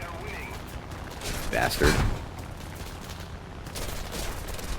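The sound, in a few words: gunfire from aircraft in War Thunder video game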